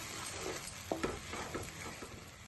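Onions sizzling softly in a pan with salt, with a few brief scraping stirs of a spoon partway through; steady low crackle throughout, no voices.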